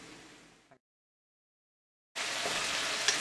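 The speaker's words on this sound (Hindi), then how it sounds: "अच्छी तरह से तल गया है अपना शिमला मिर्च" Capsicum (bell pepper) fries in a pan with a steady hiss and sizzle, a short quiet stretch before it cuts out, then a louder continuous sizzle after a gap of silence.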